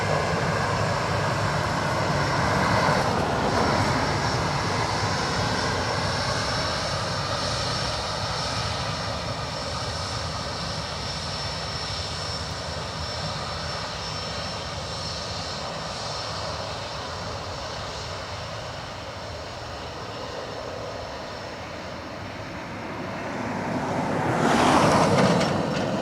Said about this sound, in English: It's the AA triple we saw landing earlier.